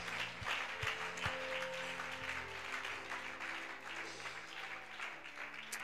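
A church congregation applauds during a French-language worship service, a faint, steady patter of many hands clapping with a few sharper individual claps, continuing without a break.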